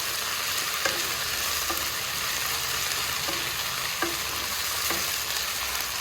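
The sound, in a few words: potatoes frying in hot oil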